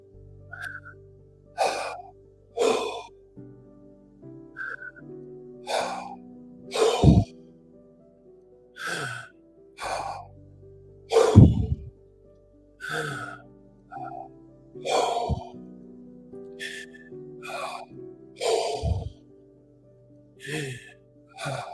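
Repeated audible breaths through the mouth, sharp inhales and breathy exhales alternating in an uneven rhythm, close up over a faint background tone.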